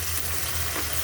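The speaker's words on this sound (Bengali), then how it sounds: "এভাবে আমি সম্পূর্ণ মশলাগুলো মিশিয়ে ভাজিয়ে নিব" Spices and onion paste fry in a pan with a dense, even sizzle that holds steady at close range throughout, no voices over it.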